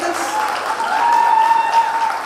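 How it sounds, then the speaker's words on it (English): Audience applause at a college day event, a steady wash of clapping from a large crowd that swells slightly midway and continues without pause. "Can we have another round of applause for Emmanuel sir actually? For coordinating all of this."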